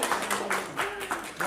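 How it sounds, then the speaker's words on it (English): A small group at a fashion show press meet gives a few claps in a loose, roughly even rhythm, mixed with nearby voices chatting. "Let's clap."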